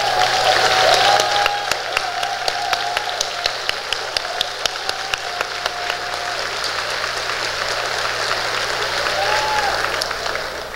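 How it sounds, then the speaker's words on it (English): Audience applause at the 2018 GIA conference, a steady wash of many hands clapping that is loudest at first and holds for about ten seconds, with some crowd murmur and no speech. "will you please stand so we can give you a round of applause"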